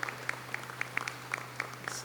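Sparse, faint handclaps ring out at a bank's annual general meeting for employees marking 10 and 25 years of service, a few scattered claps at a time over a steady low electrical hum.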